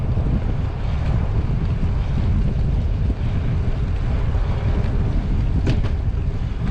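Wind roars and buffets the microphone during a bicycle ride, giving a loud, continuous rushing noise that dominates the scene, with no voices.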